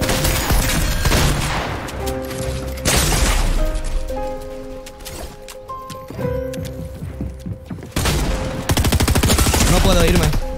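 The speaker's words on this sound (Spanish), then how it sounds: "Eso ha sido mi bot disparándome a mi bot." A heavy shotgun fires repeatedly in the video game Fortnite, with loud sharp blasts in irregular bursts over a steady musical backdrop.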